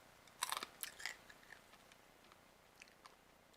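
Someone bites into and chews crunchy roasted Three Farmers Pea Pops, wild ranch flavour: a cluster of sharp crunches up front, then softer intermittent chewing crackles fading out, close and quiet with no talking.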